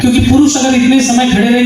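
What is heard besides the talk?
No everyday noise stands out behind the speech.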